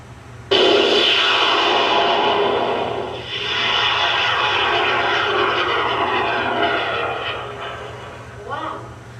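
A model rocket on an M-class motor ignites with a sudden roar that holds as a long, loud rushing blast and slowly tapers off, with voices heard near the end.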